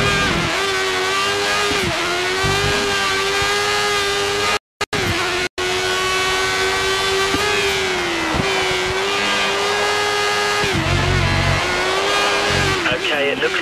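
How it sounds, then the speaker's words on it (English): A Formula 1 car's engine screams at full revs in the F1 2013 video game during a Brazil race, a loud sustained high-pitched wail that dips and climbs with each gear change, with two brief dropouts partway through. "Looks like the car ahead is trying to create a gap. He's running full revs, maximum power."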